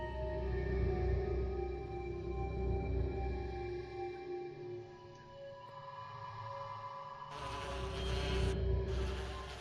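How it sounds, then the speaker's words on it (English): Low droning buzz of bees in the Resident Evil HD remake, a steady hum with a brief brighter burst near the end. "Yeah, bees. Well, bees are easy enough to stay away."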